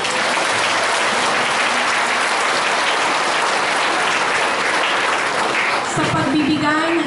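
Church congregation at a Filipino mass for San Lorenzo Ruiz applauding, a dense sustained burst of clapping filling the hall for several seconds, with a voice speaking near the end.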